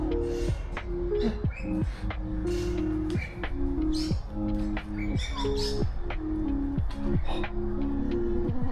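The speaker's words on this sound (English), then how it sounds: "They had some really cool, colorful looking birds in there" Colorful birds in a zoo bird exhibit chirp in short, repeated sharp calls over a steady low indoor hum, with several birds calling close by throughout.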